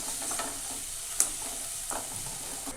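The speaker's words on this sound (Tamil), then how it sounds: "ஜஸ்ட் ஒரு 30 seconds நம்ம இது எல்லாத்தையும் சேர்த்து ஆயிலில் ஃப்ரை பண்ணி எடுத்துக்கலாம்" A green chili and pepper mixture fries in hot oil with a bright, constant close sizzle, broken by a sharp spatter pop and a few scraping stirs, with no voices.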